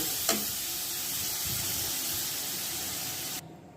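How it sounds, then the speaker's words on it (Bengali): A steady hiss of an egg and potato cutlet mixture with tomato sauce frying in a pan runs throughout, with a brief clink near the start, then cuts off abruptly. "এখন আমি ভালো করে এগুলা"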